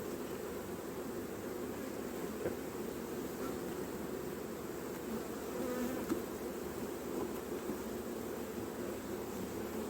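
Dense, steady buzzing of many honeybees swarming close around an opened hive during a hive inspection, filling the whole stretch without a break.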